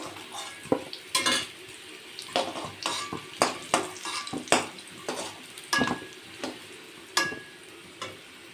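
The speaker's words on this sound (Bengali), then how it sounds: "তো আলুগুলো আমার ভাজা হয়ে গেছে লাল লাল করে, এখন আমি তুলে নেব" Reddish-fried potatoes are lifted out of hot oil in a kadai, with sharp metallic scrapes and clinks of a utensil against the pan repeating irregularly over a soft, continuous sizzle.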